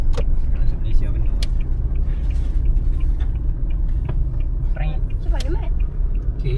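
Cars drive past on a street near the Malaysia border, a low continuous rumble of engines and traffic with scattered higher noises, while people talk throughout.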